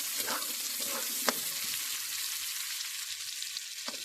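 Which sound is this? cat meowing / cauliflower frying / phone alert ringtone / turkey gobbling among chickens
cauliflower frying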